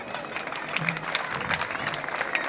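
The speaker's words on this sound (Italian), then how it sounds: "Un applauso." An audience at an outdoor summer athletics show in Oria claps in a brief burst of applause, fairly quiet and a little distant, with a voice faintly underneath.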